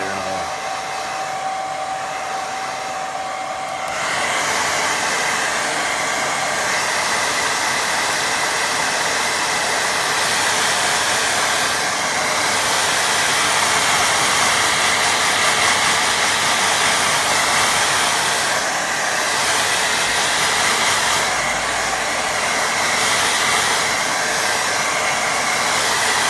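Hair dryer blowing over a wet watercolour painting, a loud continuous whooshing roar that swells after a quieter start and holds steady, with slight shifts in pitch as it moves.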